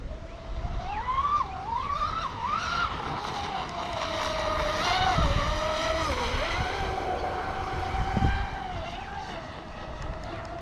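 A radio-controlled boat with a TFL Zonda hull and WT200 ESC runs at full throttle on open water, its motor whine rising and falling steadily across repeated punches, loud and close with no talk.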